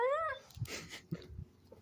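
A pet dog lying on top of its owner gives a brief rising whine, followed by soft breathy snuffles and small rustles close by.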